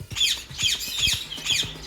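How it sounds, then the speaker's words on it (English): Harsh, repeated squawks from several colorful birds in a giant cage, bursting out in a steady rhythm of about four loud calls, close by with chattering underneath. "A giant cage of colorful birds."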